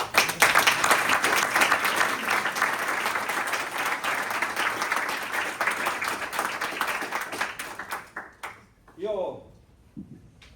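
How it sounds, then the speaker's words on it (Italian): An audience at a Veneto regional election candidate presentation in Vicenza bursts into dense, sustained applause that gradually thins and fades out, followed by a short stretch of speech. "Per un applauso."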